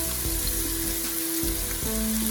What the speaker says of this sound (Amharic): አሁን እዚህ ጋር ሽንኩርታችን እየበሰለ ነው።